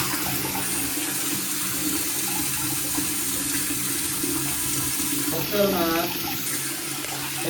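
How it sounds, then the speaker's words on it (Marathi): Water runs from an old-fashioned tap in a home, a steady broadband rush that fills the whole stretch, with a brief gurgling swell a little after the midpoint. "हो बघते इथं पाणी येतं दिसतं का मला"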